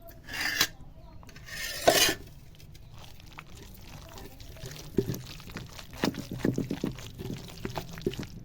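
Tomatoes ground by hand in a stone mortar for tomato pachadi, giving a couple of loud rasping scrapes early on, then a quieter run of short grinding and squishing strokes in an irregular rhythm, close by.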